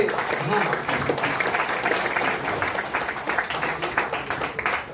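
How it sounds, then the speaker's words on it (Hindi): Audience applause at a silk merchants association's 75th anniversary event: dense, sustained clapping from a large crowd, fairly loud and steady throughout, with faint voices mixed in. "मैं चाहूंगा एक बार तालियों की गणना करें"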